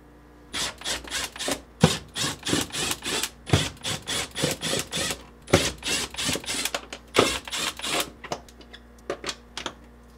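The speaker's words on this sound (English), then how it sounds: "using a quarter-inch nut driver, remove these five screws." A quarter-inch nut driver backs screws out of the evaporator cover inside a GE refrigerator, a long run of quick, close scraping ticks and clicks in uneven bursts with no voices.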